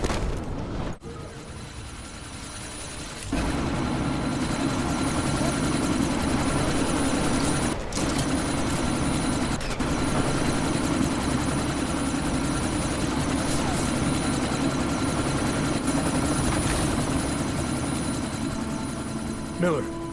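A helicopter in the video game Deus Ex: Mankind Divided drones steadily with a loud continuous rotor and engine roar, joined by a few sharp impacts partway through.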